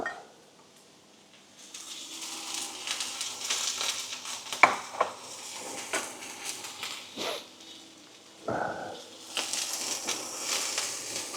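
Pork pieces stir-fry in oil in a pan, a soft sizzle broken by scraping stirs, clinks and a sharp tap, with a short louder hiss burst as the meat is tossed.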